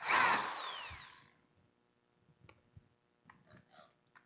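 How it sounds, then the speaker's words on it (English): A power drill bores a finger hole in a Native American style flute with one short, loud whirring burst that quickly fades. Faint clicks and handling noises follow. "I'm going to tilt the drill sideways, make sure the point gets in the dimple, stand it up straight, and drill."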